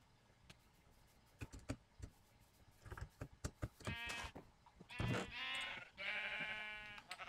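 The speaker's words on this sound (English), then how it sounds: "More sheep." Sheep in Minecraft bleat several times in short wavering cries near the end, after a run of soft clicks and taps, all fairly quiet.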